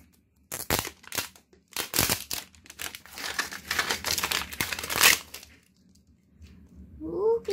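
A Halloween sweets package is torn open with close, loud bursts of plastic crinkling and rustling in irregular waves, fading to quiet before a brief voice at the end.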